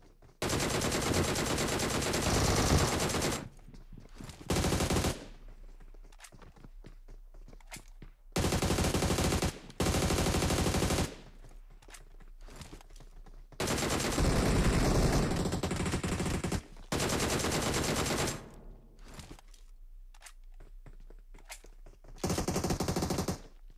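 Bursts of rapid automatic gunfire from the battle-royale game PUBG on the Livik map, loud fusillades repeating in clusters with short quieter gaps between them, no talking.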